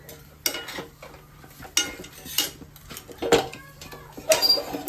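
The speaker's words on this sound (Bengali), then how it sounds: "চিকেনটাকে অল্প নেড়ে নেবো" Chicken is stirred in a metal pot, a series of sharp spoon clanks and scrapes at irregular intervals over a faint sizzle.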